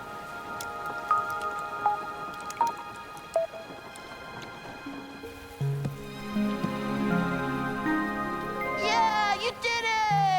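Cartoon rain from Steven Universe patters steadily in the background while characters talk and musical tones play over it, growing busier toward the end.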